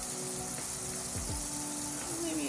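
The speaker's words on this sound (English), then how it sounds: "I am going to let this fry" Oyster mushrooms fry in a pan, giving a steady close sizzle with a few soft clinks and shifts and no voices.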